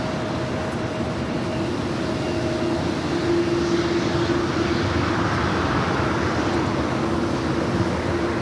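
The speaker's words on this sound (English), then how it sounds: "United Airlines Flight 1584, a flight coming in from Chicago O'Hare, a 757-300, arrival here on the south side" A United Airlines Boeing 757-300 arriving at LAX from Chicago O'Hare roars steadily overhead on the south side, a loud continuous jet rumble with a faint whine, no voices.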